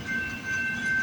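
CPKC freight train passing with a long consist of empty auto racks, a steady loud rolling rumble with a faint high whine and no distinct clicks.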